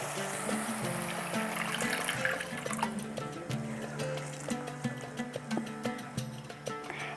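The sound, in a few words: water poured into curry gravy in pan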